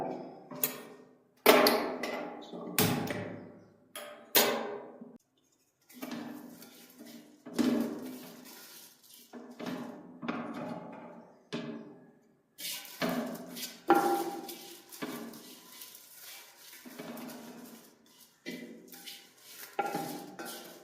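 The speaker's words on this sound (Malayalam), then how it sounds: "ഇനി ചെറിയ തീയിൽ നമുക്കിത് ചുവക്കെ വറുത്തെടുക്കാം" A spatula scrapes and knocks against a pan as grated coconut is stirred and roasted over a low flame for a Kerala-style mushroom theeyal, making irregular metallic clinks and scrapes with short pauses.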